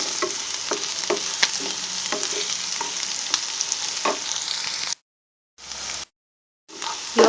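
Onions sautéing in a pan for fish molee, a loud close sizzle broken by regular scraping strokes of a spatula, then two abrupt silent gaps as the sound cuts in and out.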